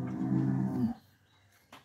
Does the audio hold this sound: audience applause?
no